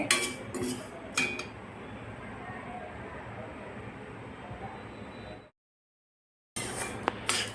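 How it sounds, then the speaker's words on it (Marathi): Millet grains dry-roasting in a pan, a close rattle and scrape with clinking strokes, one full break of silence midway before the stirring resumes. "आता आपण बाजरी भाजून घेत आहोत"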